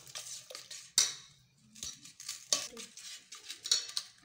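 Curd and onion-mint mixture being stirred for raita, a spoon scraping and clinking against a bowl in irregular close strokes with short pauses, no talking.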